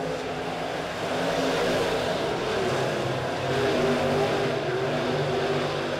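Dirt track race cars roar through a heat race at Springfield Raceway, a loud, continuous blend of engines revving and droning with no voices over it.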